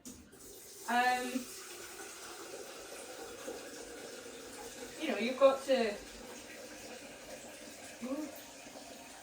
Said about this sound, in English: I'm concentrating on not overfilling my kettle